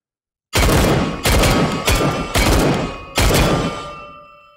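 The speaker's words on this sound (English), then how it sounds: "I shoot now this!" Gunfire in the VR shooter game H3VR: five loud, booming shots in an irregular rhythm, each ringing out before the next, the last one trailing off in a long decay, with no talking.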